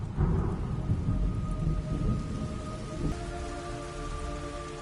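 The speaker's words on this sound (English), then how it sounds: "It's raining blood." Steady heavy rain pours down with a low rumble beneath it, continuous and fairly loud, with a faint tonal hum running through.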